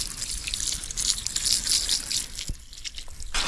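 Water trickles and drips softly over a motorbike during gentle hand washing at low water pressure, a steady close splashing hiss with a brief knock partway through.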